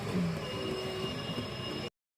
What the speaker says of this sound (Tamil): பக்கத்துல ஒரு ட்ரெயின் போகுது